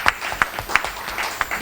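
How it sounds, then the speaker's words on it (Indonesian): A community gathering in Indonesia answers a call for applause with a small burst of clapping: several distinct, fairly close hand claps in an uneven rhythm over a light murmur of the room. "Tepuk tangan dong."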